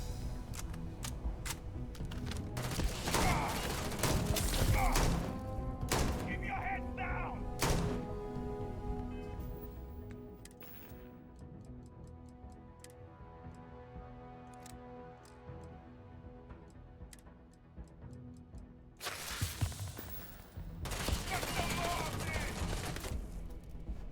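Gunshots in Starfield ring out in dense bursts of rapid fire early on, ease into a quieter stretch with scattered shots, then erupt again near the end, heard faintly with game sounds underneath.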